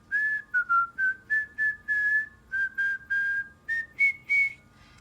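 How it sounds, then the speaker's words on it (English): A person whistles a short tune alone, a string of clear, near, pitched notes in separated phrases that step up toward the end. "let's see if I can whistle right now."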